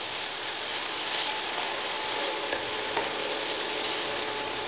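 Chicken frying in a pan with softened garlic and onion for chicken sisig, giving a steady, even broadband sizzle that holds close and constant throughout, with no voices.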